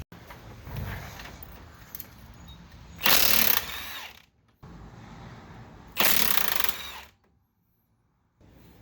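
Two loud, harsh bursts of a power wrench loosening 19mm strut bolts on a Subaru during an Ironman 4X4 suspension install, each lasting about a second, with quieter workshop noise between them.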